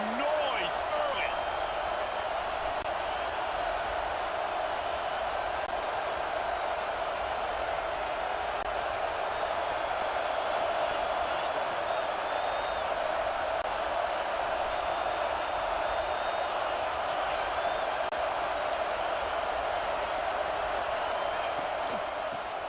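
A stadium crowd in a college football video game, Michigan vs Oregon, roars as a steady, continuous wash of noise that fills the background from start to finish.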